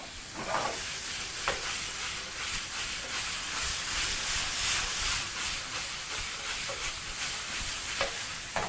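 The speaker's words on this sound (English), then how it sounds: "So proceed to toss sauce in the pan. And when almost done, proceed to add in your oyster sauce." Beef sizzles hard in a hot frying pan with oyster sauce, a loud continuous hiss broken by periodic scraping tosses and stirs of the spatula.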